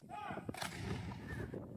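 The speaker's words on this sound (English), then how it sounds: "How often do you get to see historic cannons shot off?" A historic cannon fires during a live demonstration at Fort Macon, one broad boom with a burst of noise and a faint lingering tail, heard at a distance over low background murmur.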